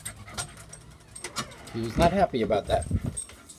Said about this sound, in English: Somehow my dog got out.